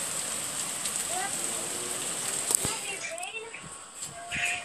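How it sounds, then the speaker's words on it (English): Steady rain patters and hisses outdoors with scattered drips, with faint chirps and a sharp tap partway through. "It's raining right now."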